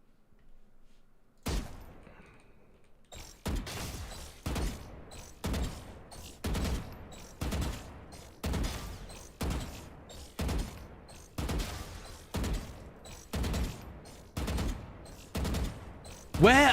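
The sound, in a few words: gunfire in the video game Valorant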